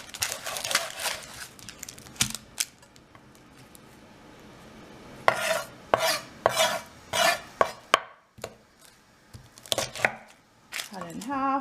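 A knife chops a large onion on a cutting board in bursts of sharp, close taps, with quiet pauses between runs of cuts and some faint rustling of onion pieces.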